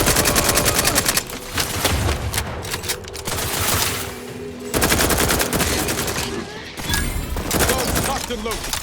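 Dense, loud automatic gunfire rattles through a firefight in The Outer Worlds 2, sustained bursts broken by short lulls before heavy shooting resumes.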